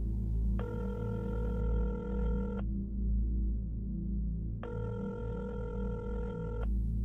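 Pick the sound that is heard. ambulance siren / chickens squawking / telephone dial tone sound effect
telephone dial tone sound effect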